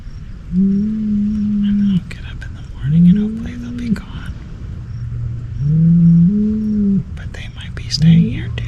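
Cattle near a riverside tent on the Missouri River give four loud, drawn-out moos with short pauses between them, while a soft whispering voice carries on underneath as a storm approaches.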